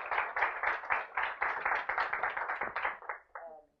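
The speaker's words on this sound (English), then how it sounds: "let's give him a round of applause for that" A small audience at a mathematics lecture claps in separate, uneven strokes that thin out and fade toward the end.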